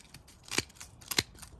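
Felco pruning shears make two crisp, sharp snips about half a second apart, close and clean, with faint lighter clicks between and no talking.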